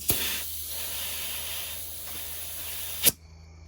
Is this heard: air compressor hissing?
yes